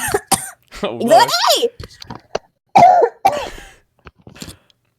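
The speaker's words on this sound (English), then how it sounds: "if I talk too much, I start coughing" A few sharp, harsh coughs in quick bursts, close by, separated by short pauses.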